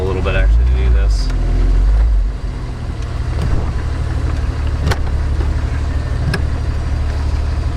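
A 4x4 with an Atlas four-speed transfer case rolls slowly with a deep, steady engine rumble, a heavier surge at first, then light clunks as it shifts into low range.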